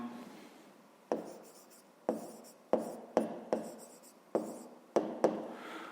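Pen or pencil strokes on paper as a math problem is written out by hand, a series of about nine short, close scratching bursts with brief pauses between them, alone in a quiet room.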